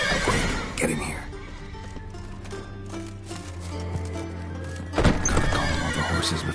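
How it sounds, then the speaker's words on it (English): Horses whinny and neigh in a stable in The Witcher video game, with hoof clip-clop and shuffling beneath steady background music and a sharper burst near the end. "Gotta calm all the horses before they wake the guards."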